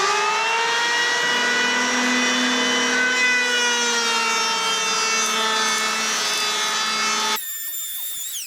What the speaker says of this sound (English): we're going to use a hand planer, plane this thing down on the top and the sides